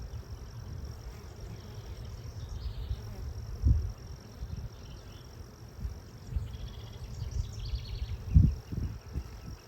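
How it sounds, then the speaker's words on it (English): A swarm of honey bees being moved to a new hive hums softly and continuously in the background, with occasional low thumps and handling noises close by. "Lots of bees"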